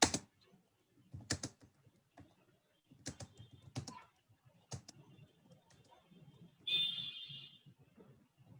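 Computer keyboard keys tapped while typing ad headlines, coming as scattered bursts of clicks with pauses between, close and fairly quiet, with no talking.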